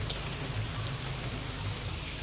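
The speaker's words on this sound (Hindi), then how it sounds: "गाइस अब ये देखिए कितनी तेज पड़ रही है भाई बारिश।" Heavy rain pours steadily throughout, a dense continuous hiss with low rumbling wash, loud and close with no pauses or voices.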